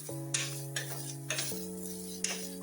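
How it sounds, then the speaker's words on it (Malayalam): A spoon stirs asafoetida and tomato in a pan for rasam, making about four soft scraping strokes over a steady tonal background hum with no talk. "ഇതെല്ലാം ഒന്ന് ഇളക്കി എടുക്കാം."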